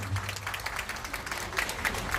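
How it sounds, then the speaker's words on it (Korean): Brief burst of audience applause at a saxophone ensemble concert in Danyang, scattered clapping from a seated crowd lasting about two seconds at moderate level. "박수 한번 보내주시기 바라겠습니다."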